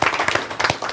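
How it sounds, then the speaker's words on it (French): A short burst of audience applause during a French local broadcast gathering, dense uneven clapping from a nearby crowd lasting about a second. "on applaudit"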